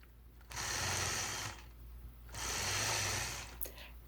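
A sewing machine quilts a spider star block in two bursts of fast, even stitching separated by a short pause, close and clear with no talk.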